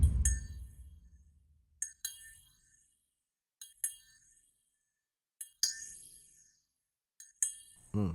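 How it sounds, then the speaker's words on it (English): A triangle-like metallic melody, bright single dings spaced apart with ringing decays and short pauses between notes. "they always have like cool little triangle melodies"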